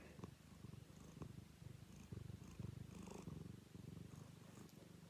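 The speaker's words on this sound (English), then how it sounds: "Hear him purr." A cat purrs softly and close by, a steady, rhythmic rumble that pulses with each breath, with a few faint light rustles and clicks in the background.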